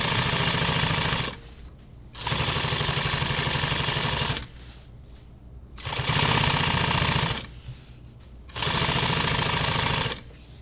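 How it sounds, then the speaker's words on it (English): A sewing machine stitches a nylon EDC belt in four loud, steady bursts of rapid mechanical chatter, each one to two seconds long, separated by short quiet pauses. "we're sewing it all the way together"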